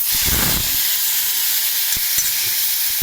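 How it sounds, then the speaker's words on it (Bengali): Mustard seeds and dried red chilies dropped into hot oil give a loud, continuous hiss and sizzle with a brief crackling burst near the start, close up and without any talk. "তেলের মধ্যে দেখো আমি সর্ষে আর শুকনো লঙ্কা দেবো।"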